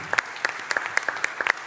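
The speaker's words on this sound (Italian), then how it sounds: "di nuovo un applauso per questi magnifici protagonisti" Sparse, distinct claps from an audience, individual hand slaps sounding at an uneven rhythm, fairly quiet and close.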